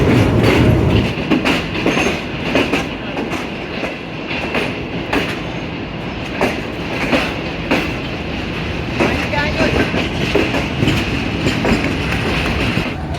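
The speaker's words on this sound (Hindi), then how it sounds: "Green line is ready for departure." A Green Line passenger train runs on rails with rhythmic clickety-clack from the wheels and a broad rumble, loud and close throughout, with voices faintly underneath.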